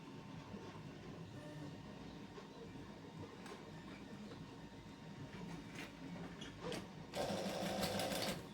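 A sewing machine runs steadily, stitching along the edge of a Burda 6840 shirt. The close mechanical hum holds throughout and swells into a louder, faster burst near the end.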